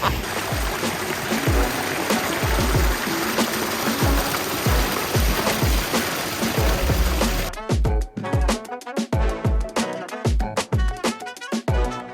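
Water splashing and trickling steadily in a garden water feature, a dense close rush with rapid irregular drips that thins into sparser, distinct splashes and trickles after a sudden drop in the flow.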